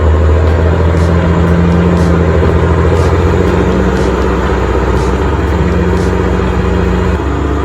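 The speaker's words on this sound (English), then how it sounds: "You can see Ross struggling to get his truck up a greasy, slick hill." A logging truck engine labors up a greasy, slick hill in the rain, a loud, steady low drone with a droning hum throughout and faint periodic clicks above it, no voices.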